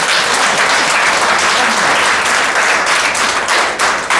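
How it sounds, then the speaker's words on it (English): Dense, loud applause from an audience clapping for themselves at the close of an online talk show session, a continuous wash of many hands without pause. "Please give yourself a round of applause."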